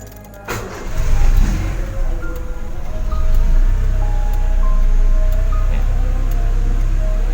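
A Honda Civic Ferio with its check engine light on cranks and catches after a short pause, then settles into a steady, loud idle with a low rumble that continues to the end.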